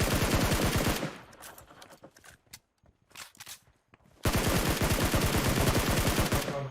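Rapid automatic gunfire bursts out in the game PUBG Mobile, loud and close, then drops to scattered shots and footsteps before another long, loud volley.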